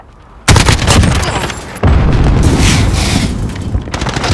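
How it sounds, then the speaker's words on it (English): Heavy automatic gunfire in Call of Duty Modern Warfare on the Rust map, with an AK-47 among the weapons, comes as dense, loud sustained bursts that resume abruptly after a brief break, close and continuous with no audible speech. "I'm taking fire."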